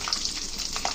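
Cashews, fried gram and garlic frying in hot oil for a tempering, a close, steady sizzle and crackle with small popping bursts over one brief moment.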